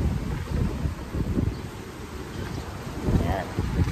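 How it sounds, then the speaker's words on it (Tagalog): Strong wind buffeting the microphone at Fujairah Beach during stormy, cold weather, a steady low roaring rumble with gusty swells throughout, a voice faintly present underneath. "bakit ang lakas ng hangin sa labas?"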